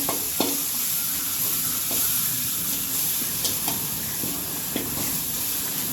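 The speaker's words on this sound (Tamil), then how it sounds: "ஸோ எல்லாத்தையும் போட்டுட்டு நல்லா கிளறி விடுங்க." A spoon stirs spiced masala with coriander powder as it sizzles and fries in a pan for a cauliflower fry, with steady hiss and scraping and a few sharp clicks of the utensil against the pan.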